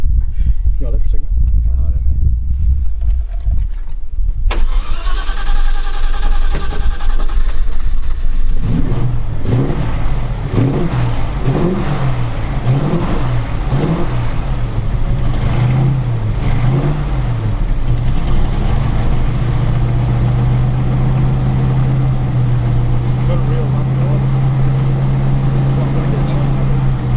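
An old car that has sat unused for a long time cranks and starts, then runs at a loud rough idle with uneven revving that settles into a steady hum, while someone talks near the engine.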